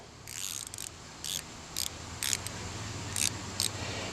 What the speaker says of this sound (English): These ratchet-in box end wrenches.